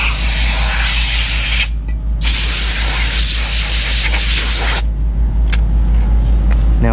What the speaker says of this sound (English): Now I like to spray it off,